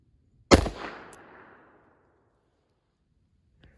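A .410 gun fires a single Hornady Critical Defense round at 15 yards: one sharp, loud report that decays quickly, followed by a faint click near the end.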